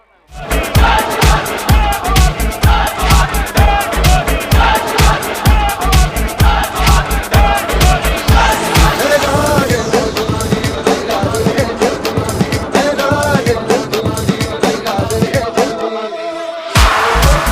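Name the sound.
cricket team supporters cheering at match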